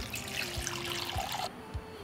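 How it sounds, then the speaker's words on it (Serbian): Warm water runs steadily into a pot holding jars, with a soft trickling rush, a few dull knocks in the background, then the flow tapers off near the end. "Nalit ću s toplom vodom do visine poklopca."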